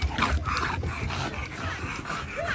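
A small dog whimpers and yips in quick, high, strained bursts, close and fairly loud, with panting between the cries.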